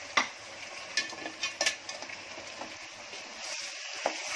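Green chili and tomato sizzling in a pan for prawn pulao, with soft frying hiss under scattered clinks and scrapes of a spoon stirring, fairly close and moderate in level.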